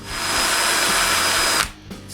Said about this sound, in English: I can drill the base pivot hole.